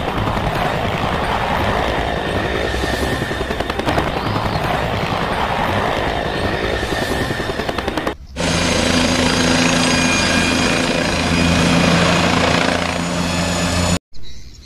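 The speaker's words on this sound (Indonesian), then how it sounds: "Coba kita terbangkan helikopternya teman-teman." A toy helicopter with a spinning propeller flies, its loud continuous rotor whir running steadily throughout before cutting off abruptly, with no talk over it.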